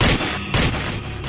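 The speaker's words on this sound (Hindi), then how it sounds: "इस बात से अनजान कि वो जिस पे गोलियां चला रहे हैं वे सुखीलाल नहीं, बल्कि सुखीलाल के भेष में" Rapid bursts of gunfire crackle densely and loudly throughout, with a brief dip midway before the volley resumes.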